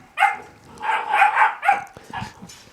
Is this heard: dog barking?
yes